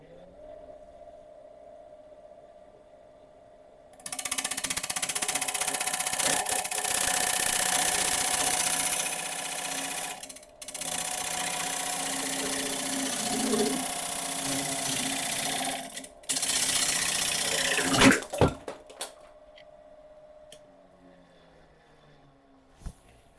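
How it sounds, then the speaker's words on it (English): Wood lathe turning a bowl while a carbide tool cuts straight through, loud steady whirring with a harsh cutting rasp in three long bursts separated by brief pauses, ending in a few sharp knocks and then near silence. "I'm just going to come in here with a carbide tool, go straight through, and hopefully they'll separate and go their own ways."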